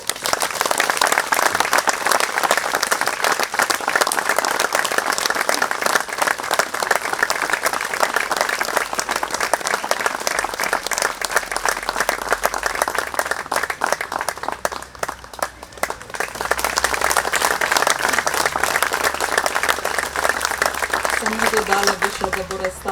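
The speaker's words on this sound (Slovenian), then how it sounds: "In velik aplavz za nagrajenko Lejo Vučko." Sustained audience applause at a municipal holiday ceremony in Bohinj, dense steady clapping filling the room for about twenty seconds with a brief dip midway before swelling again.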